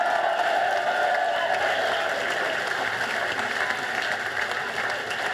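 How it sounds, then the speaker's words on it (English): A rally crowd of Labour supporters gives Andy McDonald, Member of Parliament, a sustained round of applause. The clapping is dense and steady, with faint cheers mixed in, and it runs unbroken throughout. "can we give him yet another round of applause?"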